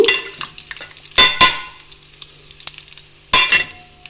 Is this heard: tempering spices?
yes